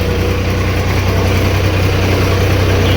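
A tractor with a punctured tyre idles loudly and close, its engine a steady, even low rumble throughout with no voices.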